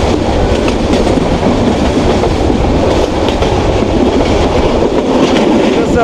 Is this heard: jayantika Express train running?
yes